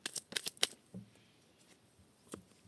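Tarot cards shuffled and laid out, a quick run of sharp riffling snaps up close, then a few soft slaps as cards land on a surface, quiet with no talking.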